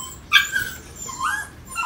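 A Phu Quoc puppy, a brindle male, whimpers and gives thin high whines with a short yip, soft and close against a quiet background.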